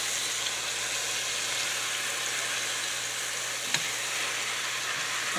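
Steady crackling sizzle of Steak-umm steak pieces frying in a hot pan, a continuous hiss with one brief clink partway through.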